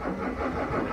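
A Volkswagen car engine turns over and catches, a brief, close mechanical rumble settling toward idle.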